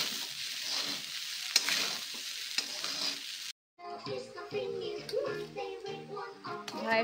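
Cooked rice frying with black pepper and garam masala, a soft crackling sizzle with stirring clatter for a few seconds, then an abrupt cut to voices talking in a room.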